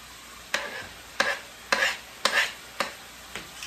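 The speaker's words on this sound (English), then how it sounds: "I'm adding my garlic now." Garlic added to a pan of carrots, tomatoes and hot pepper for brown stew snapper, five or six sharp bursts of sizzling as it is stirred, close with no talk.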